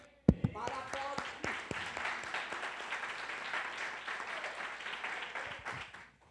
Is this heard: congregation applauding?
yes